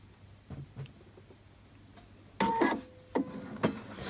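A sewing machine stitches a buttonhole with its buttonhole foot in a few short mechanical bursts, quiet ticks first and then louder rapid whirring runs separated by brief pauses.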